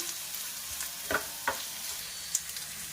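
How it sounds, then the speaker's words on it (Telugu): Mint and spices frying in a pan for aloo dum masala, a low steady sizzle with a few sharp stirring clinks and scrapes, close and fairly quiet, no voices. "కొంచెం పుదీనా వాష్ చేసుకొని వేసుకుంటున్నాం. ఇవన్నీ కొంచెం ఫ్రై అయ్యేదాకా వేయించాలి."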